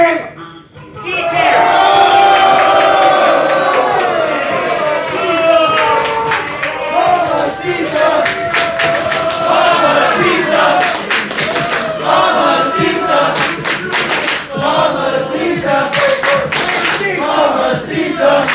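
A live wrestling crowd at a cosplay wrestling show cheers and shouts loudly and steadily, with scattered claps and whoops in a dense, continuous roar.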